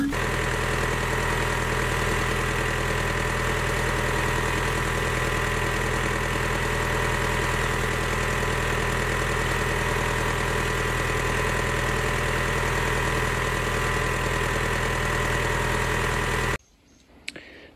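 A tractor engine idles on a rural homestead beside a bathing pond, a steady low rumbling drone with a faint knock that runs unbroken for about sixteen seconds and then cuts off abruptly, leaving only faint rustling.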